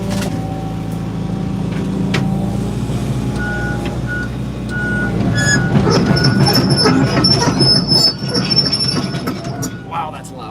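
An old excavator fitted with a thumb attachment works hard while clearing trees along a property line, its loud engine droning with hydraulic whine and metallic clanks and high squeals, growing louder midway, with no talk.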